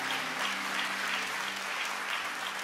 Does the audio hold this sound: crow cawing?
no